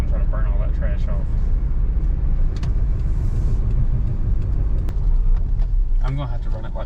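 A Saab 9-2X Aero on the move, its engine droning steadily with a soft turbo whoosh riding over a deep road rumble, while people talk inside the car.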